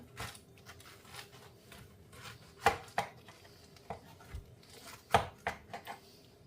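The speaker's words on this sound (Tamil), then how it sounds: "இப்போ இதை நாங்கள் 2 பாதியாக முதல்ல கட் பண்ணி எடுப்போம்" A knife cuts a peeled pineapple in half, giving a few sharp chopping thuds and crunches against a board, close and fairly quiet, with soft handling noises between strikes.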